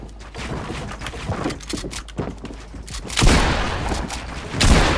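Gunfire from the Fortnite video game, a loose string of shots and bursts at varying loudness with heavier blasts toward the end, under faint background voice.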